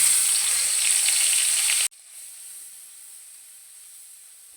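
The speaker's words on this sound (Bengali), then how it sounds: "চিংড়ি মাছটা হালকা করে ভেজে নিয়েছি" Shrimp rubbed with salt and turmeric sizzle loudly in hot mustard oil in a wok, a bright steady hiss that cuts off abruptly partway through, leaving a faint low background.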